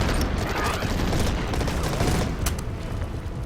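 Dense, steady din of battle in the wargame Order of Battle, loud overlapping booms and shot reports filling the whole stretch with no break.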